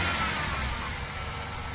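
A 1993 Ford F250 XL with a 4.9L inline-six and an ignition fault runs rough just after a cold start, a loud, close, uneven engine drone.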